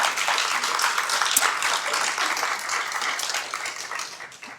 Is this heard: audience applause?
yes